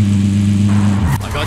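A vehicle engine droning steadily while driving in the video game Call of Duty Modern Warfare, a loud low hum that shifts pitch near the end.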